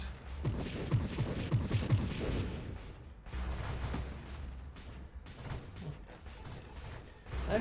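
Explosions in the space shooter game Nova Drift: a rapid cluster of crackling blasts and crashes, followed by further scattered bursts and whooshes, all fairly quiet.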